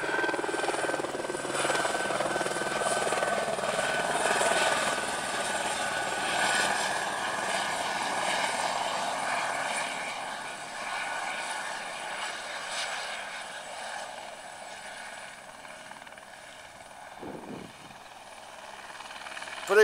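A helicopter coming in to land at a heliport set in a wheat field, its rotor and engine drone steady and moderately distant, gradually easing in level as it settles, with a brief low thump near the end.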